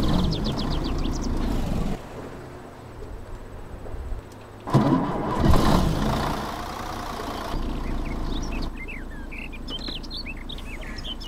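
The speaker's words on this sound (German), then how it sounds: "Motor an." A diesel city bus engine cranks and fires up in the OMSI 2 bus simulator, turning over with a rough surge and settling into a low idle, while bird chirps sound in the background.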